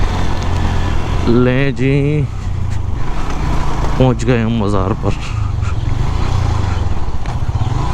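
A motorcycle drones steadily as it rides up to a shrine between Sujawal and Thatta, its engine running loud and close throughout while someone speaks over it in two short bursts.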